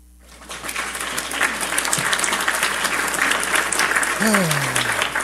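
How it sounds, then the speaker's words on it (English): A small group gives a round of applause during a casual talk-show chat, steady close clapping lasting several seconds with voices talking over it. "Yo, round of applause"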